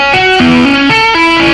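A distorted electric guitar plays a fast pentatonic tapping lick, a steady run of loud, close notes shifting in pitch with no talk over it.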